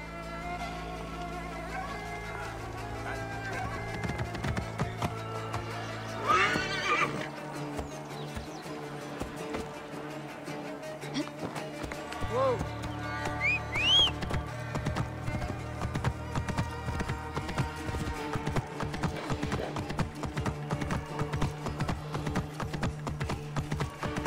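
A horse trots and gallops with steady clip-clopping hooves and gives an occasional whinny in the video game Assassin's Creed Origins, set against a game music score and ambient sound, with no voices heard.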